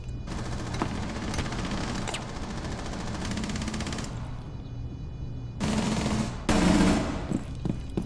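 Video game gunfire during a tactical shooter round: sustained rapid automatic bursts that thin out, then two louder, denser bursts near the end, steady and loud throughout, no voices.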